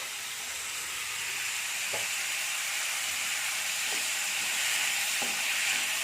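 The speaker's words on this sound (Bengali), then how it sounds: "আলুগুলো দিয়ে দিচ্ছি আলুগুলোকে একটু লাল লাল করে আমি ভেজে নেব" Long-cut potatoes frying in a pan, a steady loud sizzling hiss that continues throughout, with a few faint stirring knocks and no talking.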